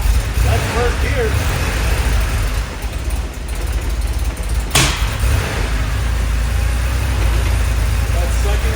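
A 1982 Porsche 911 Slantnose engine runs rough in gear, giving a loud, uneven rumble close by. A sharp knock breaks in midway, and a voice can be heard over the engine.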